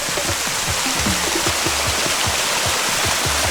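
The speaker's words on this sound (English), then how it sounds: "Oh, the sound of a brook" Babbling brook flowing beside a stone bridge made from a single giant stone, a constant close rush of water with soft gurgles and splashes and no voices.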